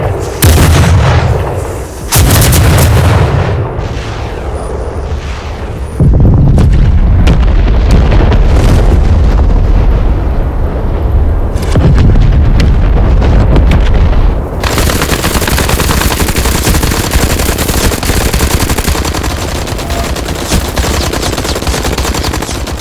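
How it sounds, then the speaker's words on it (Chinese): Heavy bombardment roars on: dense bursts of gunfire, booming artillery and explosions hammer continuously, very loud and close, with brief dips between volleys before a sustained rumbling barrage. "远程火力准备开火，呼叫轰炸"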